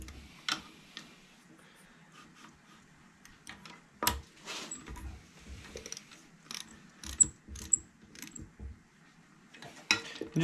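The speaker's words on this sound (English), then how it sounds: "let me get the fancy dancy torque wrench out there." A torque wrench ratchets on bolts during a Yamaha golf cart engine rebuild, giving bursts of close, light metallic clicks worked back and forth at an irregular pace over quiet, with occasional clanks of tools.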